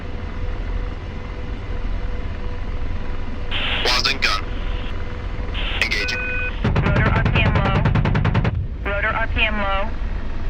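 The AH-64 Apache's gun fires a rapid burst in the DCS combat flight game, a dense rattle of closely spaced shots over the constant rotor drone, with a pilot's radio voice and cockpit tones around it.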